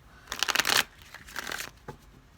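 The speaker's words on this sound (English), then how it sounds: "One more shuffle." Tarot cards being shuffled by hand, two quick riffling bursts of papery flutter followed by a soft tap, close and fairly quiet.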